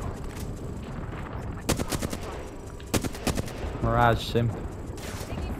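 Gunfire crackles in Apex Legends, with quick bursts of automatic fire and sharp single shots from mid-distance, under players talking.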